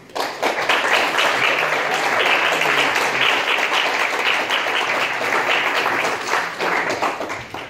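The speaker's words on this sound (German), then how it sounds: "großen Applaus." Audience applause at a short film festival, a sustained burst of many hands clapping that swells quickly, stays full and even for several seconds, then begins to thin near the end.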